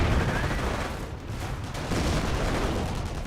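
Sustained, dense gunfire and explosions from a Company of Heroes battle as a machine gun bunker gets cleared, a continuous loud barrage with heavy low rumble and no break throughout.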